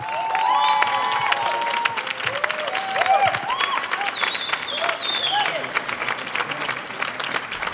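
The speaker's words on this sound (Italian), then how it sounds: "L'applauso per chi ha diretto il maestro Leonardo Porfiri." An outdoor audience at a wind band concert by a castle applauds the conductor, loud and sustained clapping while voices and bright whistle-like tones rise over the crowd.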